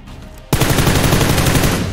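Sustained rapid gunfire in the PUBG Lite PC shooter erupts after a short quiet lead-in, loud and continuous with a fast rhythmic patter.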